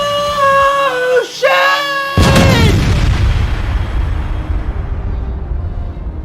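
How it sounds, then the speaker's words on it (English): A shouted spell and ringing tones cut off abruptly by a loud booming magic explosion blast, followed by a long crackling, rumbling roar that slowly fades. "Release! Explosion!"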